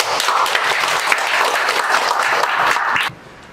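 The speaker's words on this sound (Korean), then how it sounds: "한국생산성본부의 정광호 팀장님을 큰 박수로 맞이해 주시기 바랍니다." An audience at an online seminar on ESG welcomes a speaker with loud, dense, continuous applause that stops abruptly, leaving a quiet room.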